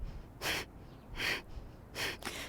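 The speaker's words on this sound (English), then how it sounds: "It's a passive inhale and a forceful exhale through the nose" Forceful breath-of-fire exhales through the nose during a yoga side-body twisting flow: three sharp, breathy bursts in a steady rhythm, the last one doubled, close and fairly soft against a quiet room.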